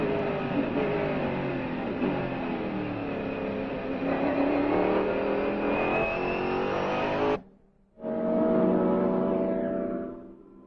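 Onboard a Mercedes CLR race car on a fast lap at Le Mans in 1999: a loud, close engine roars steadily at high revs, rising in pitch, drops out sharply for a moment as the driver lifts, then surges again and fades, with no talking.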